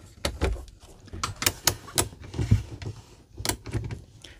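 The window of a Black Series HQ19 RV is opened: a series of sharp clicks and knocks from latches and the frame, with a brief scraping slide in the middle, heard nearby and fairly quietly.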